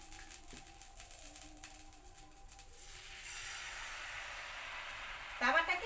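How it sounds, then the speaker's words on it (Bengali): Rice-flour batter from ration rice hits an oiled hot tawa over a clay stove, and a broad, steady sizzle rises and holds. A voice speaks briefly at first, and a few sharper crackles come at the end. "অল্প একটু ব্যাটার দিয়ে দিচ্ছি তাওয়ার মধ্যে।"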